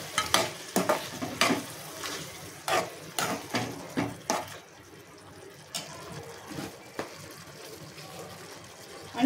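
Dhaba-style mushroom masala gravy being mixed in a pan with spices and yogurt, a rhythmic run of wet scraping stir strokes over a low sizzle that thins out and slows toward the end.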